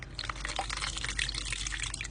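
Water is poured into a pan while making muscoth halwa, giving a continuous, close splashing and trickling with fine dripping textures over a steady low hum.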